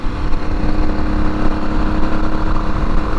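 The 1987 Honda XL600R single-cylinder engine winds high while the motorcycle is under way. A loud, steady, buzzing drone holds throughout and is recorded close up, with wind rush mixed in.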